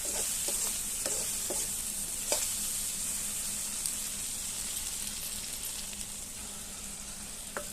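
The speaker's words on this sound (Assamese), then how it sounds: "অলপ সময় লৰাই ভাজি আছোঁ।" Fish with elephant apple sizzles steadily in a hot pan while a utensil scrapes and taps against it every so often.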